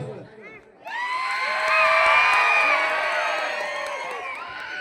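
A live audience bursts into loud cheering, whooping and shouting after a brief lull, and the excited voices swell and hold for several seconds.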